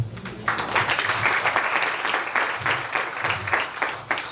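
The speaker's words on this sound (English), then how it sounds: "Let's just give another round of applause to Retido." Audience applause fills a book launch room, a dense steady patter of many hands starting abruptly after a brief quiet moment and holding at full strength to the end.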